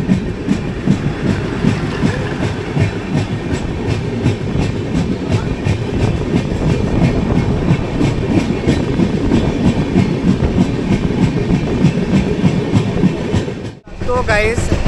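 The Darjeeling Mail runs on rails past Kanki station toward Kishanganj, giving a loud, steady rumble with clattering wheels and carriages that continues without a break, then drops out briefly just before the end.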